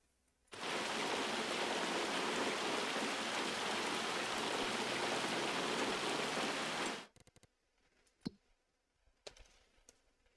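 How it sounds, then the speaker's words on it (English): Steady rain pours down in a farming video game, a dense even hiss that cuts off abruptly partway through, leaving faint scattered ticks and clicks. "looks like the rain's supposed to end around 10 o'clock"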